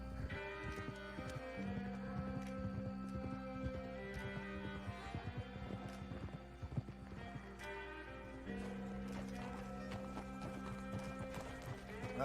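A horse clip-clops steadily over ground in Red Dead Redemption 2, hoofbeats repeating at a walking pace with a brief whinny, under a constant game music bed and a faint voice.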